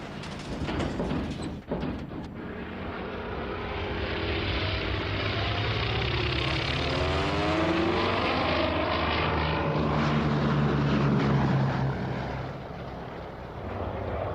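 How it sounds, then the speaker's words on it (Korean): Propeller fighter planes taxi along a temporary airstrip during the Sicily landing operation, preparing for takeoff. Their engines give a loud, steady, droning roar that swells slightly as it continues, with no voices. "전투기들은 임시 활주로를 미끄러져 내달리며 서서히 이륙 준비를 했다."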